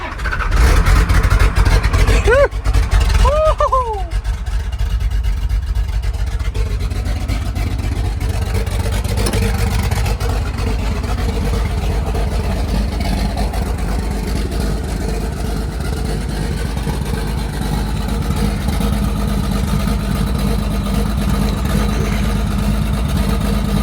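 A 12-valve Cummins diesel with a five-speed swap in a small dually truck cold-starts with a brief loud crank and catch, then settles into a steady, rumbling idle that continues close by with no talking.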